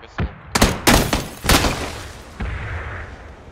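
Explosions and gunfire in PUBG: several sharp loud blasts and bursts in quick succession, then a softer lingering rumble and hiss toward the end, with no talk over them.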